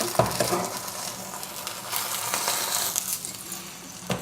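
An egg cooked inside a slice of bread fries in olive oil in a pan, a continuous moderate sizzle with a few soft scrapes and clicks as it is lifted and flipped.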